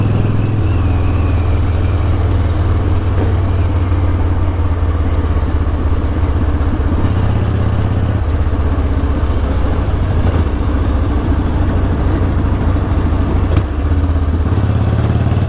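A 1983 Harley-Davidson Ironhead motorcycle engine running close by, a loud, steady, rough idle rumble with clattery mechanical texture that holds throughout with slight surges, no speech.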